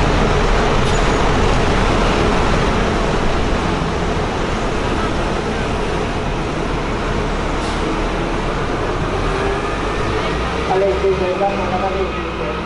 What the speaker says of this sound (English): There's quite a bit of traffic